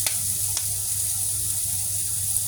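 An egg sizzles steadily in a little oil in a pan for a simple breakfast, a continuous close frying hiss with a faint low hum beneath.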